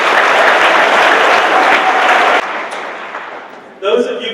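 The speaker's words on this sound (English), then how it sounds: "So let's give them a round of applause." Applause from a lecture audience at a community lecture series, a dense, steady clatter of many hands for over two seconds, then thinning and fading, with a faint voice starting at the very end.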